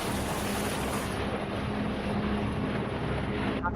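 A rescue helicopter flies over the sea, a loud, steady broadband roar of rotor and engine with wind rush throughout, no distinct speech.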